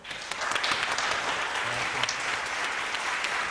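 Audience applause at a theatre evening of an Italian university language-theatre festival, a dense steady clapping that swells quickly and holds at full strength for a few seconds.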